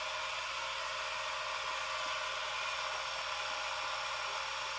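A lathe spins at about 2,000 RPM while a pen is buffed with compound, giving a steady, unbroken broadband whir and hiss at even loudness with no pauses.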